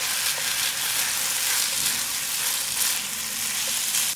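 Rice stir-frying in a hot pan with a spoonful of soy sauce and sesame oil, a loud continuous sizzle with faint stirring scrapes running steadily throughout, no talking.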